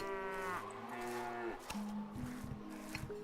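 Dairy cattle on a farm in Stronghold give long, low moos one after another, fairly faint under a background of game sounds and short knocking noises.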